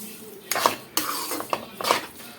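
Sugar is being stirred into mango semiya kesari with a spoon, giving several scraping, clinking strokes against the pan. The strokes are close and distinct, with a faint sizzle in the gaps.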